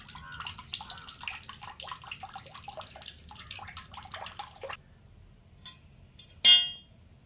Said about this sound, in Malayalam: തേങ്ങ ഒന്ന് കഴുകി കേട്ടോ കഴുകിയാൽ ഇതിലെ പൊടിയൊക്കെ അങ്ങ് പോകും